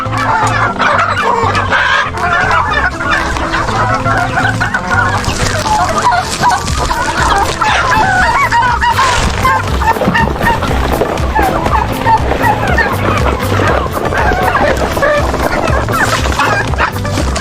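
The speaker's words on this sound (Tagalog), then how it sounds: "dito po manok din to dito po pabo" A loud, dense chorus of turkeys gobbling continuously, mixed with chicken clucks and occasional dog barks, filling a busy farmyard.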